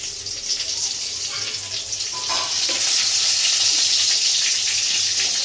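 Crushed cardamom dropped into a little hot oil, giving a steady bright sizzle that grows louder and fuller midway, close and continuous.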